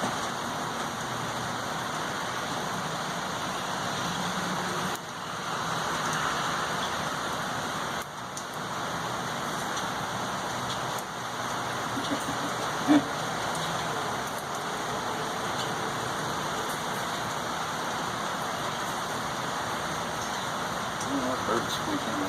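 Steady rain falls outdoors in a continuous, even hiss that lasts throughout, with faint voices and an occasional brief knock or bump.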